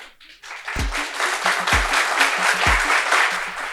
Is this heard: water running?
no